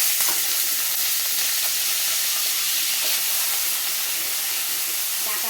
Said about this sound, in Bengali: ডাঁটাটা একটু তুলে দিয়ে ভালো করে ভেজে নিয়ে তোমাদেরকে আবার দেখাবো।